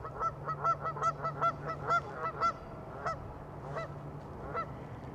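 Geese honk over Oxfordshire in a quick run of repeated calls, then fewer and more scattered honks follow at moderate distance.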